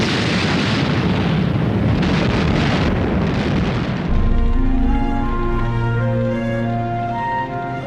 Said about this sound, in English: The Soviet T-34s drove into the German lines and opened fire at point-blank range